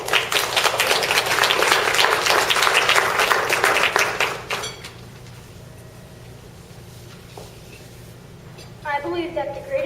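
Loud, dense audience clapping fills the first few seconds, then cuts off abruptly into a quiet room with faint rustles before a voice begins speaking near the end.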